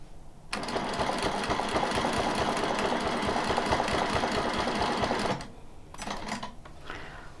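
A sewing machine runs for about five seconds during free motion quilting, making a steady, close, rapid mechanical whir of stitching. It then stops, followed by a few faint handling noises.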